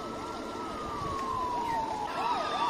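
Emergency vehicle sirens in a Gotham Knights city scene, a wailing siren sweeping up and down steadily while a second, higher siren joins near the end, moderately distant and continuous.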